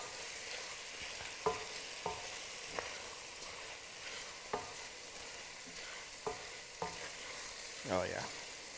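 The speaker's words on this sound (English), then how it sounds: "So we're going to start stirring those around and incorporating that into this." A spoon stirs ingredients through hot and sour soup in a pot, with a low simmering hiss underneath and a series of sharp scraping clinks spaced irregularly, alone without talk.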